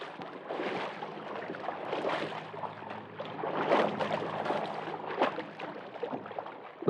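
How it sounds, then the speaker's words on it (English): Feet slosh and splash through streams and flooded rice paddies in 1966 wartime Vietnam, heard as irregular watery surges and bursts over several seconds, with no talk. "Of your feet sloshing through streams and rice paddies."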